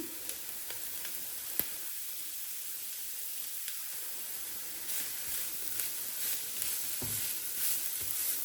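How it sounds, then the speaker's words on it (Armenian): Vegetables fry quietly in a pan, a soft continuous sizzle with a few sharp crackles and the odd light clink. "Գազարն էլ ավելացնելուց հետո մի փոքր գազարն եմ տապակում"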